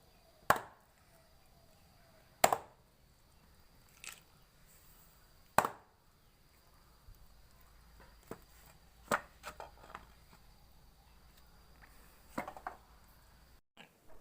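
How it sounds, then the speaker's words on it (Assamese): Sharp, heavy chops of a blade hitting a board, about a dozen irregularly spaced strikes, some loud and close, others softer, with quiet between them. "এয়া আমাৰ হাঁহ কাটিছে"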